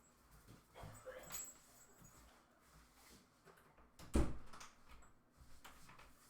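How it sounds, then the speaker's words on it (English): A dog whimpers and yips near a door that it has pushed open, soft whines in short bursts with one louder sharp sound in the middle, quiet room ambience around it. "Apparently my dog pushed my door open."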